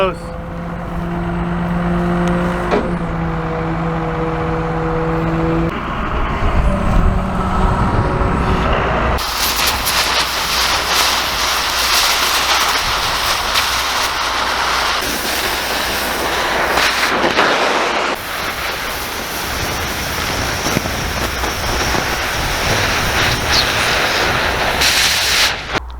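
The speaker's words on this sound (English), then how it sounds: "So I'm gonna use the front end loader to pull this one out so we have somewhere to drive in and out of this field." A front end loader pulls a hay bale out of a field with a chain, its engine a loud, steady broadband roar that swells and holds for most of the stretch, with some talk early on.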